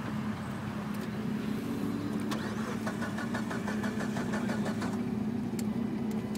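A broken-down car whose oil has drained out, leaving no oil pressure, is cranked by its starter. Rapid rhythmic turning-over sits above a steady low mechanical hum and never catches.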